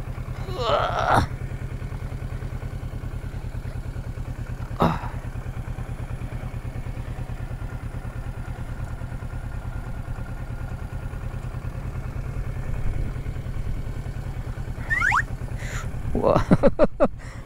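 A motorcycle rolls slowly at low speed with a steady low engine putter running throughout, joined by a few brief clatters and thumps, and a bit of talk near the start and end.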